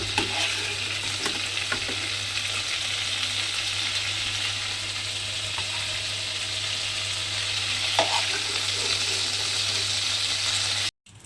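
Fried shrimp crackle and sizzle in hot oil as they are lifted out, a dense, continuous frying hiss up close with occasional stirring clatter, ending abruptly.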